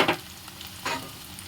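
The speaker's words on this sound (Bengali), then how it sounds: "তেল ছেড়ে দিয়েছে, তার মানে পেঁয়াজটা কিছুটা কষা হয়েছে" Onions with green chillies, dried chilli powder and spices sizzle in oil in a pan, a soft steady frying hiss broken by two brief scraping stirs, close and alone.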